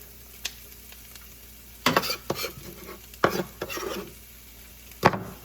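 Cabbage goes into a pan with ham for fried rice and is stirred, giving several bursts of scraping, rustling stir-fry noise over a low sizzle, close and fairly loud, with pauses between strokes.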